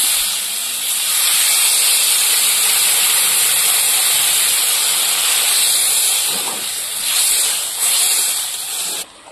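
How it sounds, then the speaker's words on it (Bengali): A loud, steady hiss of steam rises as water hits a pot of banana curry with bori that has been fried in spices, sizzling on and on for several seconds close up before it cuts off. "এবার জল দিয়ে দেব।"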